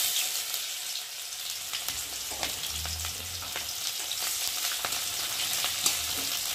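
Onions fry in hot oil in a kadai, a close, steady crackling sizzle with scattered pops and occasional soft stirring scrapes throughout, no talking.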